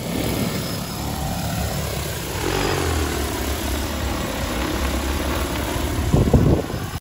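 An agricultural drone sowing seed over a field gives off a loud, steady rotor whir that holds evenly throughout and swells briefly near the end, with no voices.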